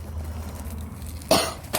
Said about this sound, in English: someone's made me cough